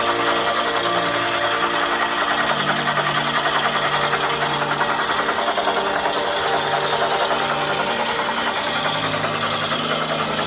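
Spring engine generator running continuously with a fast, buzzing mechanical clatter and vibration, close and steady, with no talking.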